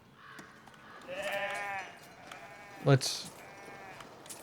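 Sheep bleats from a sheep statue in the city-building game Foundation, a few wavering bleats, fairly faint and partly under a voice, followed by a sharper chime-like game sound.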